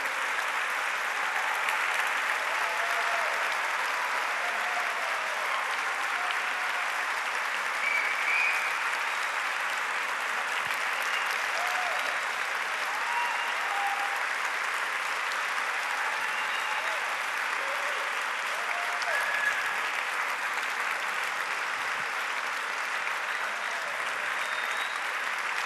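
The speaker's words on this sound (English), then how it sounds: "I think a bigger round of applause is needed for this performance" Sustained applause from a large concert audience after an Indian classical sarod performance by Amjad Ali Khan with Amaan and Ayaan Ali Bangash, steady dense clapping with crowd noise filling the whole stretch without a break.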